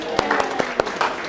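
A workshop audience claps together in a short practice round of applause after a shout of bingo, with several sharp, evenly spaced claps over a little more than a second.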